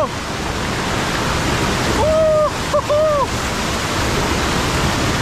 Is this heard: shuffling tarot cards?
no